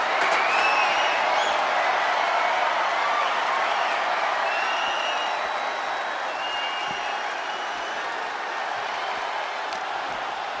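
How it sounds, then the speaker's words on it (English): A roaring arena crowd in the WWE 2K24 wrestling video game, with loud continuous cheering, clapping and scattered whistles holding steady throughout and easing slightly toward the end. "Just listen to the crowd roar."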